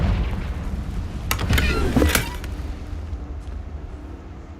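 A Confringo blasting spell goes off in Hogwarts Legacy as a dull, booming explosion with a brief crackle, heard over a low continuous rumble and fading away.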